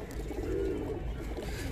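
Lal Ambarsare high flyer pigeons coo softly in Andheri West, Mumbai, a faint, low, rolling murmur over steady background noise.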